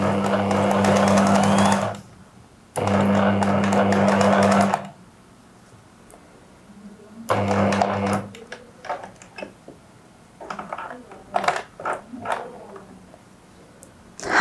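A sewing machine stitches a coat collar, running in loud steady bursts of a few seconds each with pauses between, then lighter handling clicks and rustles of fabric nearby.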